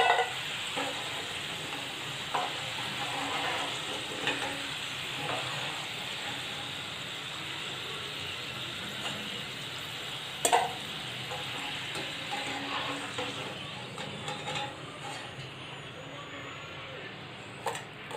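Potato french fries frying in hot oil, a steady close hiss and bubbling sizzle with occasional scrapes and clicks of a utensil, continuous and moderately quiet, no talk.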